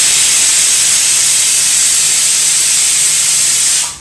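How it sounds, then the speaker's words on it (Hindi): A pressure cooker whistle vents at a family dinner in an Indian home, giving a loud, continuous high hiss of escaping steam that holds steady for several seconds before cutting off abruptly. "सीटी आई है ना कुकर की"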